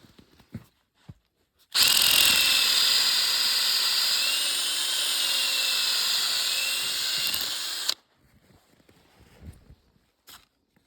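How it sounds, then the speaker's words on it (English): A power drill bores into a maple tree trunk with a steady high whine lasting about six seconds, then stops abruptly, leaving faint rustling and small knocks on either side. "it's time to dig a hole in the trunk with the drill"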